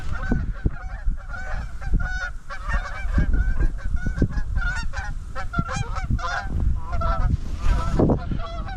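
A flock of geese honks loudly and constantly, overlapping calls layered thickly at close range over a late-season deer hunting camp, with no one speaking.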